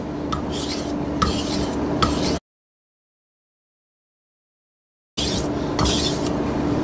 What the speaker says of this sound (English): we're starting with a 1000 grit stone. We're going to go from the heel to the tip, following that angle with the guide clip.